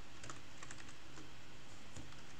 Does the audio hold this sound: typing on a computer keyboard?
yes